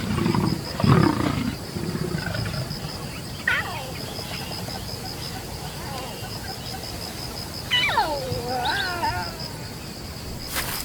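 A wild African lioness roars, with deep rumbling calls and strained groaning cries rising and falling over several seconds, fairly close, alongside other cat-like vocal sounds.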